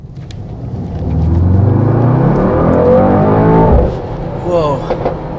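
A 2019 Mercedes-AMG GT63S 4MATIC+ four-door coupe with 639 horsepower revs hard, its engine and exhaust rising in a loud, close, aggressive roar for a few seconds, then dropping off into lighter burbles.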